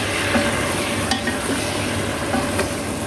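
Chicken wings adobo with boiled eggs sizzles and bubbles steadily in a hot pan, a continuous crackling hiss with a few sharper pops and a light scrape.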